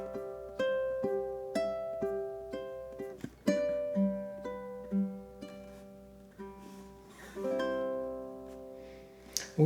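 A ukulele plays the gentle outro of a song alone, plucking clear chords and notes one after another at an unhurried pace, each ringing out and fading, close and clear.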